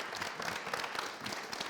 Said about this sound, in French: Merci d'applaudir pour Frankie, s'il vous plaît.